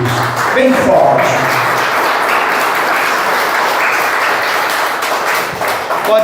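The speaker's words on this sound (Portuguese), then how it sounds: "Palmas para Jesus, bem forte." Congregation in a church clapping loudly and steadily, a dense close wash of hands with a voice speaking briefly at the start.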